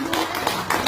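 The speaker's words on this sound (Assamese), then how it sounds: "সৰু মাইনাৰ বাবে এটা হাত চাপৰি বজাই দিয়াচোন আইতা" A few hands clapping for a little girl named Maina, a short burst of quick, close claps with a voice heard alongside.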